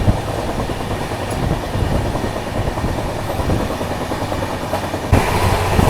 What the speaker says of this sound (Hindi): तो अभी देखो वापस से अपनी ट्रेन ऑलमोस्ट 130 kmph पर आ गई है।